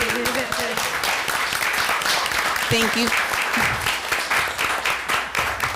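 An audience at a school board meeting claps in loud, steady applause that runs throughout, while a speaker's voice briefly comes through over it.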